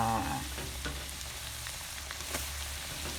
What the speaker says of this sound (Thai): เดี๋ยวเราจะไปทอดหอมกันเลยน้ำมันเราเริ่มร้อนแล้วนะคะ